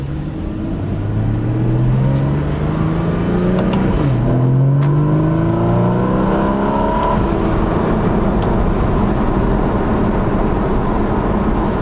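Engine of a 2015 Porsche Cayman heard from inside while driving, rising steadily through a gear, dropping at a shift, then climbing again in a loud, continuous drone.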